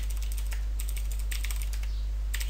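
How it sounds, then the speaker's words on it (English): Typing on a loud computer keyboard, rapid clusters of sharp clicks with brief pauses, close up over a steady low electrical hum. "I'm sorry about the loud keyboard"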